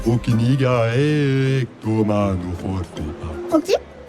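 Gestral creatures from the video game Clair Obscur: Expedition 33 babble in lively, voice-like nonsense sounds, close and clear, with rising and falling pitch and a short chuckling burst near the end.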